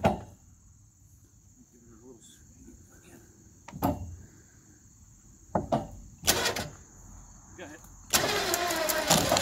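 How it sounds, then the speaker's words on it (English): A winch pulling logs onto an A-frame trailer outdoors, with intermittent knocks and clanks that build to a loud, sustained mechanical grind near the end. Insects buzz steadily in the background and voices are briefly heard. "now we're just going to winch it right in"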